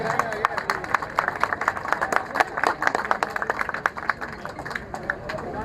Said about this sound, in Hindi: जोरदार तालियों से अभिनंदन कीजिए श्री अनुराग सिंह ठाकुर जी का